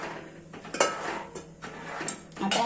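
A spoon stirs gram flour pithla in a metal pan, making soft close scrapes and several light clinks against the pan, with no voices.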